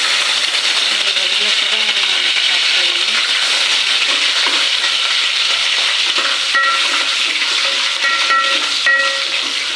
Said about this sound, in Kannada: ಚೆನ್ನಾಗಿ ಫ್ರೈ ಮಾಡ್ತೀನಿ